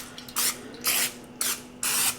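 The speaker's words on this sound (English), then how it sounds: "let's go ahead and spray the pan so our" Cooking spray hisses onto a baking pan in four separate short bursts, each a bright, fairly close spray with brief pauses between.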